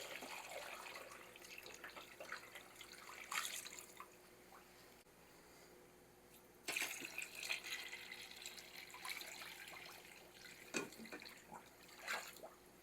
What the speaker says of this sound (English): I'm going to cover them with water.